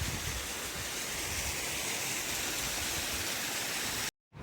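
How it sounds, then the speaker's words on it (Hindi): Mountain waterfall in the Himalayan Kedarnath trekking region, a steady broadband roar of falling water that fills the clip evenly before cutting off abruptly near the end. "फाइनली हमें पानी का एक झरना मिल गया है"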